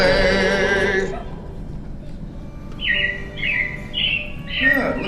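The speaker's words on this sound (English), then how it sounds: "it looks like the Robins are getting ready to celebrate Valentine's Day today" Animatronic robins in Disney's Carousel of Progress show give a series of bright, quick chirps and tweets in short repeated bursts, following a fading sung music passage, with a voice briefly present.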